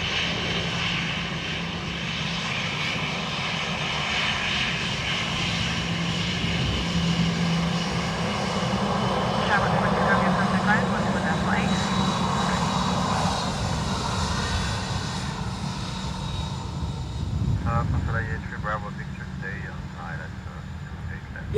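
Aircraft engines roar steadily through a derated takeoff at Dublin Airport, a broad sustained rumble heard from a distance at a spotting position, with faint voices and radio chatter underneath.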